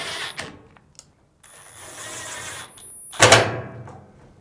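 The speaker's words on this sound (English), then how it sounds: "Then reinstall the two Phillips screws." A screwdriver reinstalls two Phillips screws on a Fisher & Paykel dryer, making close mechanical clicks and a short run of driving noise, then a louder rattling clunk near the end.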